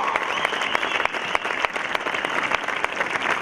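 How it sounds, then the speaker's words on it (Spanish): Audience applauding at a community band concert, a steady wash of dense clapping held at an even level from start to finish, with no voices over it. "Fuerte aplauso para ella."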